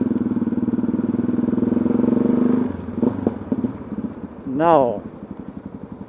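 A motorcycle's exhaust rumbles low and steady while riding for a few seconds, then drops away as someone says a brief word and the engine note rises and falls faintly underneath.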